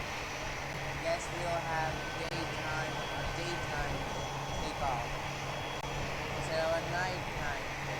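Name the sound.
airplane taking off in video game PTFS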